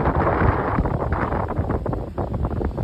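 Steady, loud wind buffeting a microphone at a cruise port where a cruise ship is docked, a broad continuous rumble with gusty fluctuations that fills the whole clip.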